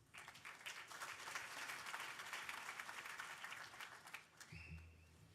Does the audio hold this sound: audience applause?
yes